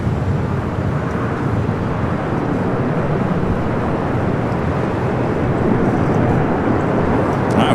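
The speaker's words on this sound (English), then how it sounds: "Condor in the beige beach livery, A330neo heading into the west gates" A Condor Airbus A330neo airliner taxis toward the gates at Los Angeles International Airport, giving a steady, broad jet-engine rumble and roar that holds at an even level and stays fairly close.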